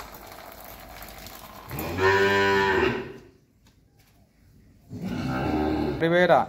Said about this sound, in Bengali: এই হলো আমার আজকের ৭ নাম্বার একটা ফ্রিজিয়ান বকনা বাছুর